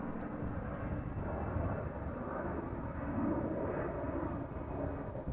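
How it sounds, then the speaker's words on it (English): Croatia Airlines airliner departing Amsterdam Schiphol, a steady broadband jet roar holding at moderate distance throughout, swelling slightly midway with no talk over it. "And another departure from a center. Croatia Airlines by the looks of it."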